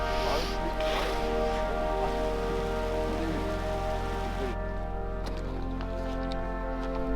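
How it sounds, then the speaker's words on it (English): Steady rain patters on leaves and surfaces all around in woods in the Dolomites, with a constant low hum and occasional faint voices underneath. "As we walked through the woods, we got hit by rain again."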